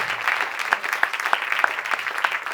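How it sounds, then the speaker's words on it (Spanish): A congregation at a Spanish-language church service applauds in strong, evenly spaced rhythmic claps, close and continuous throughout with no talking. "Vamos a dar ese aplauso fuerte."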